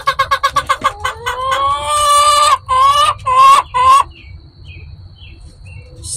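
Bantam chickens clucking close by: a quick run of short clucks followed by several longer, rising squawking calls, then quiet with faint background noise.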